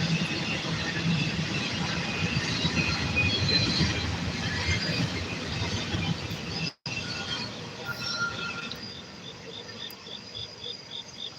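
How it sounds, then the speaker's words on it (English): A train passes on railway tracks close by, a steady broad rumble and rolling roar that fills the whole stretch, with high insect-like chirping on top and one brief dropout midway. "I feel like you live directly on the train tracks."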